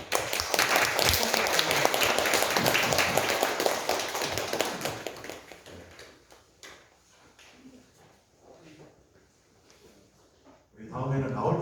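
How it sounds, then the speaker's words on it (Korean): A church congregation at Sunday worship applauds loudly as a men's choir group comes forward, the clapping thinning into scattered claps and voices before rising again at the end. "우리 나오실 때에 큰 박수로 우리 환영하겠습니다"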